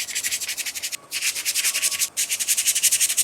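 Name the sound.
sanding a laser-cut wooden piece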